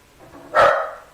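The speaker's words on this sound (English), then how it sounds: "Got my dog mad" A dog gives one sharp, loud bark close by, a single short burst with a brief tail.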